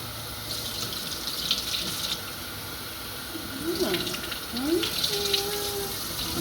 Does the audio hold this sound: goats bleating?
no